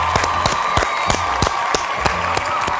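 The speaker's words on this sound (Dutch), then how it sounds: "Applausje. Applaus." Studio audience applause at a Dutch TV talk show as a guest is introduced, a dense steady patter of many hands clapping with sharp individual claps standing out, close and sustained throughout.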